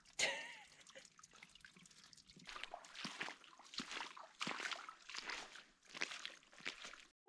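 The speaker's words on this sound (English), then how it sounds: "There are some fresh water seeps in here." Fresh water seeping from the rock walls of a canyon drips and trickles in a slow, cold shower, a steady patter of close drops with no talk over it.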